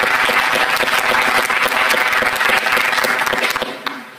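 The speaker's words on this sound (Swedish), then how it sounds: "En varm applåd till er." Warm applause from an audience at a literary talk on unsympathetic women in literature, steady dense clapping filling the room and tapering off at the end.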